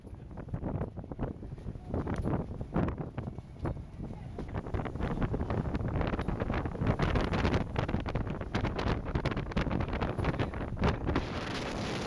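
Strong wind at sea in the Red Sea roars steadily into the microphone, with gusty buffeting and rushing noise throughout and no clear voices.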